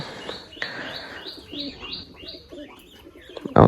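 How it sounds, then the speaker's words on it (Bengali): A male short-face exotic pigeon coos repeatedly in a steady series of soft, rolling calls, close by, ending with a brief louder rustle. "মেলটা খুব ডাকাডাকি করছে"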